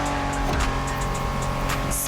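A Honda NSX races along in the video game The Crew Motorfest, its engine droning loud and steady with a constant roar of tires and road noise throughout.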